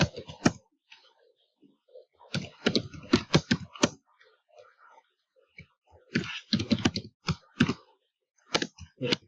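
Typing on a computer keyboard while writing HTML code, heard as bursts of quick, close clicking keystrokes separated by short pauses.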